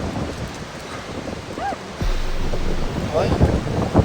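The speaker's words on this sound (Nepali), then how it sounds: "हावा त अचानक यस्तो आयो" A sudden strong wind gust hits while hiking on a high cliff above a river in Tennessee, roaring and buffeting the microphone loudly after a quieter breezy start, with rushing water beneath.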